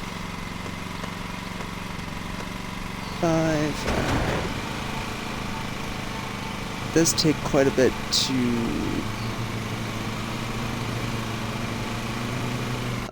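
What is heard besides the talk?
lawn mower engine running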